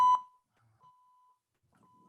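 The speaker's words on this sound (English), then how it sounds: "You'll hear the beeps" Electronic workout interval timer gives a sharp loud beep followed by two longer, quieter sustained tones, clean and alone with no talking.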